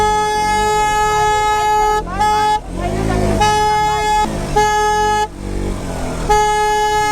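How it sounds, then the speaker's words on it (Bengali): Vehicle horns blare on a busy road in a series of long, loud steady honks broken by brief gaps, with engine rumble beneath and people talking nearby. "হর্ন শোনো না তুমি?"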